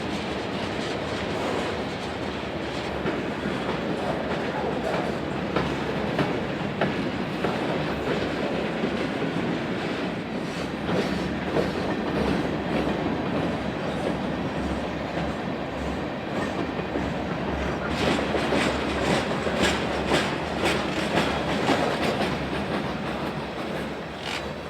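A long freight train of over 100 cars, mostly from the Iowa Interstate Railroad, rolls steadily past at Dolton Junction with continuous loud rumbling and clickety-clack wheel rhythm, growing busier toward the end.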